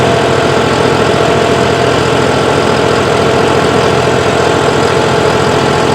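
A John Deere 5405 CRDI tractor engine runs steadily in second gear, a loud, continuous diesel drone with a rough low-end throb that holds unchanged from start to finish, no voices over it.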